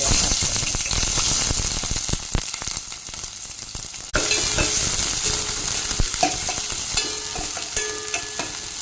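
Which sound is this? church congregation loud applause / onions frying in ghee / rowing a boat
onions frying in ghee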